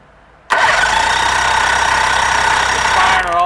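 A Mercury 60 outboard engine with its kill wire disconnected cranks and fires on all three cylinders, bursting in loud and close after a quiet start and holding a steady, even run before easing slightly near the end.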